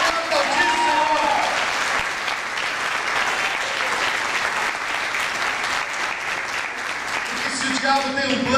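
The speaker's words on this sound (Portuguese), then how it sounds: "Quem aplaude ao Senhor?" A church congregation at a Sunday evening service breaks into loud, sustained applause that fills the room for several seconds, with a preacher's voice at the start and again as the clapping fades.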